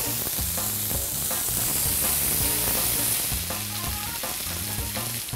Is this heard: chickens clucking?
no